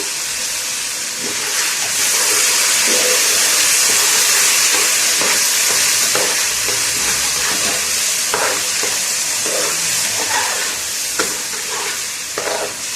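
Rice frying in a pot before soup is added, a loud continuous sizzle and hiss broken by repeated scraping strokes of a stirring utensil.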